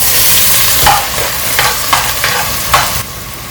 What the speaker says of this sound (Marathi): तेल गरम झालं की आपण पहिला पण कांदा टाकून घ्या